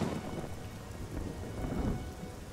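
In the video game Oblivion, steady rain pours with low rumbling thunder throughout, a continuous dense wash with no talk.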